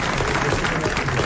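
A television studio audience in 1982 applauds, producing a dense, loud, sustained wash of many hands clapping with no single claps standing out and no speech over it.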